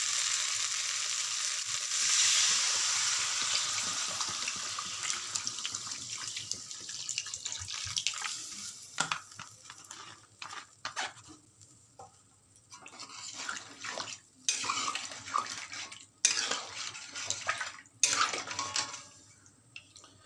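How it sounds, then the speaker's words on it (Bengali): Water pours into a hot pan of fried potatoes and spices for Bengali dhokar dalna, a loud hissing splash that settles into bubbling and scattered clinks of a utensil against the pan, close up with no talk. "এবার এর মধ্যে আমি জল দিয়ে দিচ্ছি।"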